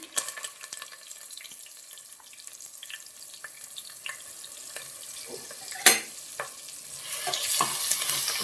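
Curry leaves and masala stirred in a hot pan for a bottle gourd curry, a steady low sizzle with scraping spoon strokes, one sharp clank near the end and the frying growing louder at the close.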